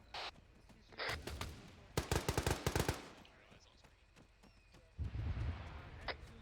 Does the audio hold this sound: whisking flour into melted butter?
no